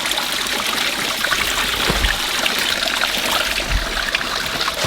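A creek flows over rocks with a constant, close rushing and gurgling of water, broad and steady throughout, no voices.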